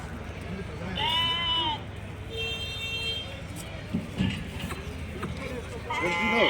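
Goats bleat several times with wavering, nasal calls at a busy Kadiri goat market, mixed with crowd murmur and a faint passing vehicle.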